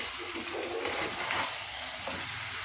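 Chicken wing gravy with onions being stirred in a hot pan, a continuous close sizzling hiss with soft scraping movements, no voices.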